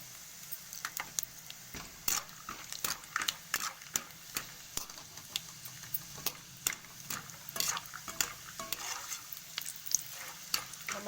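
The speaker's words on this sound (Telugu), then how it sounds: "దీంట్లోనే ఇప్పుడు పల్లీలు వేయించుకుందాం. ఇదే కడాయిలో పల్లీలు వేసుకుందాం." Peanuts frying in hot oil in a kadai, a steady close sizzle broken by frequent sharp scraping clicks of a ladle stirring through the pan, with no talking.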